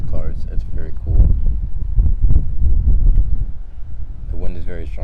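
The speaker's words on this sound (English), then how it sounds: "The wind is very strong right now too" Strong wind blowing outdoors near a gazebo, a steady broadband rumble and buffeting across the whole stretch, with a person talking over it throughout.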